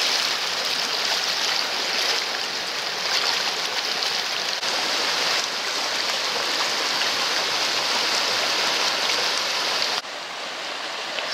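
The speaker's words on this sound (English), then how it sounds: "good strong stream of water" Strong stream of water rushing past an old mill on a Hampshire river walk near Alresford, a steady close roar of flowing water that continues without a break.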